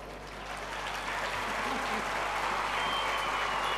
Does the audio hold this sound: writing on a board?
no